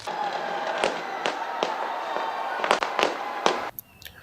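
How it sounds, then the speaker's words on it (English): Crackling bursts of New Year fireworks over Auckland, New Zealand, with sharp loud bangs repeating every half second or so against a continuous hiss of crowd and crackle, fading abruptly near the end. "The city's sky is aglow with brilliant fireworks as the spirit of 2025 begins to sparkle."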